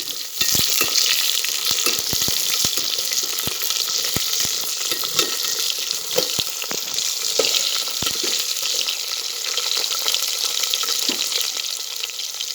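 Ginger, garlic and drumstick pieces fry in hot oil in a pan for a Telugu moong dal rasam, a steady loud sizzle throughout with frequent stirring clatters and scrapes, no talking.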